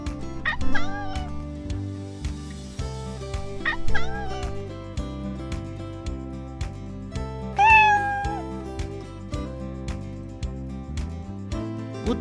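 Cats and kittens meow in several separate rising cries over a steady musical backing, with a few yelping, dog-like calls mixed in.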